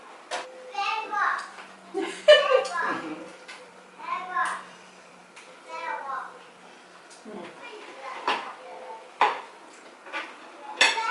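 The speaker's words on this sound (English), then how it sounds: "Now mix egg with the plantain." Egg being mixed into plantain in a bowl, with clinks and scrapes of utensil on dish woven under steady close talking, including a voice.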